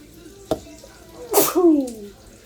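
A single sharp sneeze bursts out, close and loud, followed by a brief voiced exhale.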